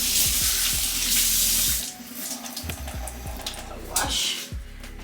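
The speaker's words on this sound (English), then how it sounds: "let's wash this off" Tap water runs into a kitchen sink while food is rinsed under it, with a steady splashing stream broken by thuds and small clatters of handling.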